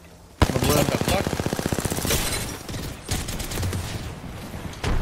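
Rapid automatic gunfire in the video game Apex Legends, a loud sustained burst of evenly spaced shots followed by scattered further fire and echoes, with a voice talking over parts of it.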